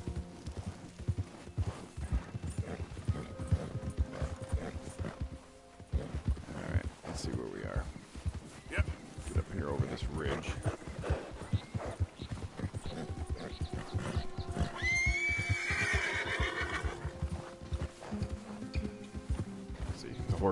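Horse hooves clip-clop steadily through Red Dead Redemption 2 gameplay, with a brief agitated whinny rising partway through, all under ongoing game ambience and voices.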